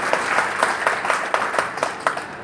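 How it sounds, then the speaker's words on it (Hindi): A small audience at a Hindi poetry event claps in a brief burst, individual claps audible in a loose, fairly close rhythm without any voices. "जोरदार तालियां बजा के थोड़ा जी भैया स्वागत है"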